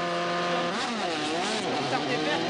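A WRC rally car launches into a special stage at the 2012 Rallye de France Alsace in the Vallée de Munster, its engine revving and rising in pitch under steady commentary.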